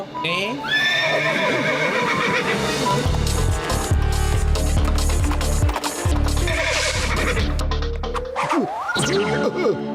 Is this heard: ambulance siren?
no